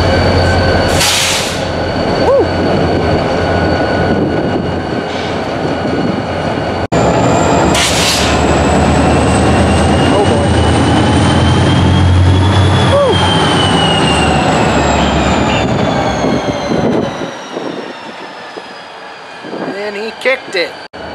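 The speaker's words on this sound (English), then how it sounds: "just see how he revved up and then immediately revved back down to get the momentum" A switching locomotive works railcars at Denver North Yard, its diesel engine droning loud and close throughout, revving up then easing back, with rail and wheel noise and a rising squeal as the cars move.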